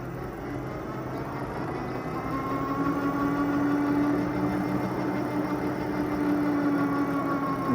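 Steady mid-pitched motor drone with a faint rising whine from a Mokwheel Onyx ST fat tire e-bike climbing a hill on throttle alone, continuous and fairly close, growing slightly louder partway through with no talking.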